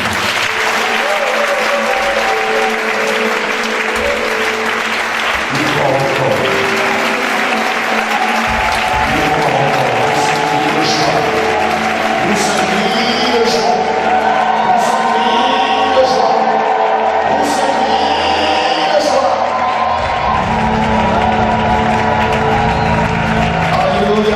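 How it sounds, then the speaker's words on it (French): A church congregation applauds and cheers at a worship service, sustained loud clapping from a large crowd that carries on for over twenty seconds, with voices and shouts mixed in. "Acclame Jésus."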